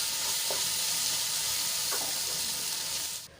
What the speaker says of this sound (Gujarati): આપણું બેસન પણ સરસ રીતે વરાળમાં બફાઈ ગયો છે તો સરસ રીતે બધું મિક્સ કરી લઈશું